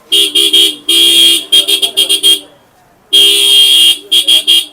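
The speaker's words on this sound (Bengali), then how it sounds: "তো আওয়াজটা আমরা প্রথমে একটু শুনবো তারপর আমরা হর্নটা আপনাদেরকে আনবক্স করে দেখাবো" A Wornty horn on a motorcycle blares loud and close in bursts: long blasts and rapid short toots in two groups separated by a pause.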